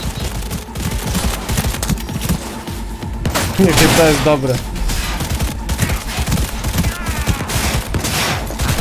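Rapid bursts of automatic gunfire and thumping impacts from a firefight in the video game Cyberpunk 2077, loud and continuous, with someone talking over the shooting.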